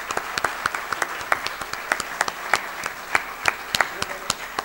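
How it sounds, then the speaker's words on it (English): An audience at a certificate award ceremony in Karachi gives steady applause, a dense patter of many hands with some louder individual claps standing out close by, and faint voices mixed in. "Ladies and gentlemen, please clap."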